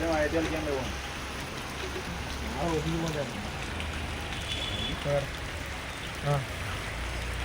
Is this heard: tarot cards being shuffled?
no